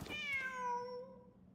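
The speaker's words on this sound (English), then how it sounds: "Wait, there it is! The cat!" A single drawn-out meow from a cat in Genshin Impact, clear and fairly close, rising and then falling as it trails off, with no voices over it.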